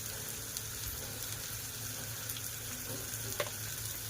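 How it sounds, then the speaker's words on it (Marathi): Ingredients for a dried Bombay duck curry are sautéed in a pan, giving a quiet, steady sizzle with a faint scrape of stirring and one small clink near the end, no voices. "चांगलं परतवून घ्यायचं."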